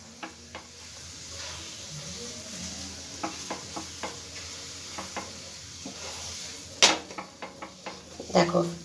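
A tomato paratha frying in a pan gives a soft, steady sizzle with occasional utensil clinks and scrapes, growing busier near the end, close but fairly quiet.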